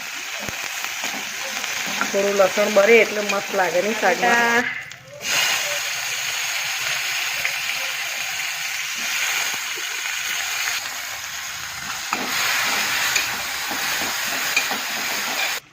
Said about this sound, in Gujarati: પછી નાખી દઈએ મીઠી લીમડી જે મેં ધોઈ કાઢી હતી એટલે પાણી છાટા જોયું વઘાર ભાઈ આને કહેવાય આપણો દેશી વઘાર